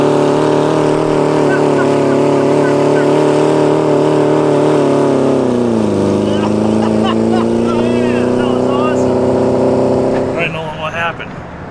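A buried Ford Pinto race car revs hard with its wheels spinning during a 24-hour endurance race, a loud, steady engine roar that dips and climbs again before cutting off near the end, with people talking over it.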